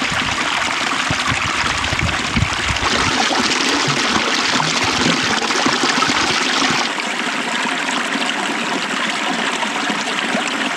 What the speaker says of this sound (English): I hear water and I see water, so we're good